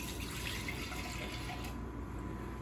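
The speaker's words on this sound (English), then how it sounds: "So I'm just gonna add the milk." Milk poured into a hot pot of melted caramel for salted caramel cake batter, giving a steady, close, continuous pouring hiss for about three seconds with no talking.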